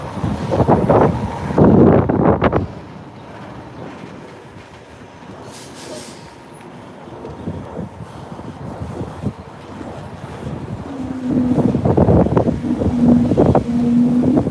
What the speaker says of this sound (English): The wind has been picking up a lot lately.